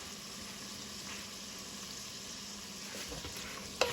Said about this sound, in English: the sausage is starting to cook for a few minutes